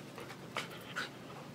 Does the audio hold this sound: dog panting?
yes